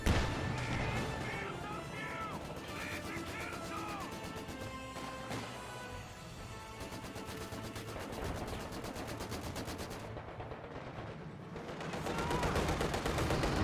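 An AEC armoured car fires away and takes a hit in a Company of Heroes 2 battle, its shots blending into steady, distant combat noise of gunfire and impacts, slightly louder toward the end.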